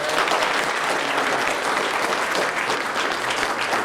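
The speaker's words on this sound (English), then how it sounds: "round of applause for our presenters." An audience at an economic forecast forum applauds the presenters, sustained, full, even clapping from a sizable crowd throughout.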